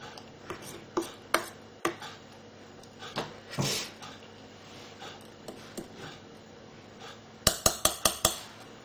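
A spoon stirs soy bean cake batter in a bowl, giving irregular scraping knocks and light clinks, with a quick run of sharper taps near the end.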